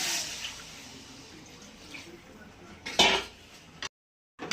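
Water poured into a cooking pan of fried spice paste for a katla fish curry with potatoes and bori: a soft wet splash and pan clatter, then a louder rush of liquid, ending in a sudden silence.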